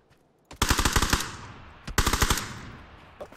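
A turret in a video game fires two sharp automatic bursts of rapid gunshots, each about half a second long, separated by a pause, with reverberant decay after each.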